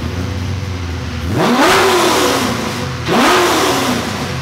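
A loud Corvette C6 drift car V8 engine idles up close on a dyno, then revs up twice in quick sweeping pulls, each climbing and falling back to a rough idle.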